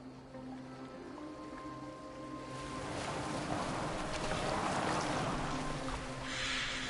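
A boat moves across water in the video game Assassin's Creed, a soft low hum swelling into a broad, steady wash and splash of water that stays loud toward the end, with no talking.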